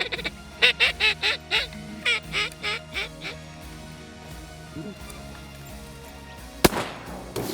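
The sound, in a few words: shotgun shots while duck hunting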